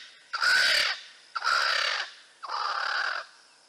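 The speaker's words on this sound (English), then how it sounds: "The Swainson spurfowl." A Swainson's spurfowl gives its harsh territorial call, three loud grating bursts of about a second each in a steady rhythm, close by and alone.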